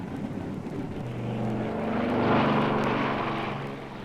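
An aeroplane engine drones on a story record, a steady propeller hum that swells louder in the middle and then holds, heard alone without voices.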